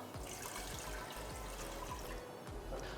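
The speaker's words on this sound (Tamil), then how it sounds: "தண்ணி கொஞ்சம் ஃபஸ்ட்டு சேர்த்துக்கலாம்." Water runs into a pressure cooker in a steady, continuous pour with a soft trickling wash, close by and moderately quiet, with no voices.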